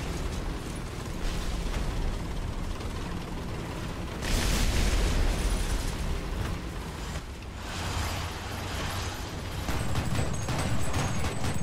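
Explosions from a destroyed ground unit in War Thunder, deep booming blasts over steady rumbling battle noise, loud bursts near the middle and end.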